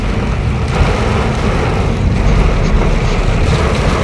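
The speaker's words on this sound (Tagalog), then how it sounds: "Lakas ng ulan, hangin." Heavy typhoon rain and strong wind roar together in a loud, dense, continuous wash of noise with a low rumbling undertone.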